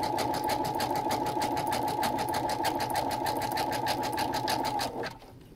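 A Brother sewing machine runs a satin stitch for applique, a steady rapid needle clatter held close and loud for about five seconds before stopping abruptly.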